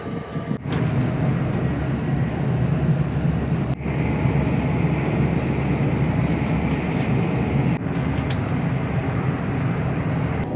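Avanti Class 807 train travelling towards London Euston near Milton Keynes, heard from inside as a loud, steady rumble and roar of the carriage in motion, with brief interruptions along the way.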